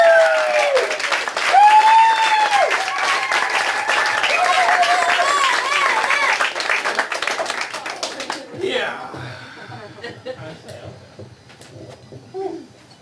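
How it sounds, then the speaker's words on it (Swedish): Comedy club audience applauding and cheering a comedian's introduction, loud steady clapping with whoops for about eight seconds before dying away under someone speaking. "Jag vill att ni är en stor applåd för Rickard Wind"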